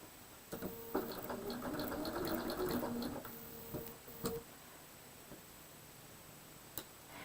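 A sewing machine stitches a quilt block with a soft, low mechanical whirring hum for a few seconds, mixed with light clicks and fabric handling, then falls quiet except for occasional faint taps.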